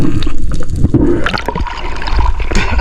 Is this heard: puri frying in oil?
no